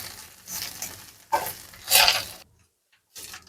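Curry leaves dry-roasting in a pan over slow-to-medium gas with little or no oil, crackling and sizzling in short bursts from their moisture, with brief quiet gaps between the bursts.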